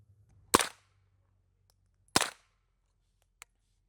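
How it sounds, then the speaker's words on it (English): An HK MP5 fires 9mm 124 grain supersonic rounds into a berm outdoors: two sharp, loud single shots about a second and a half apart, then a faint click, with silence around them. "these are just regular 9mm supersonic 124 grain. And let's see how it sounds just coming out of the"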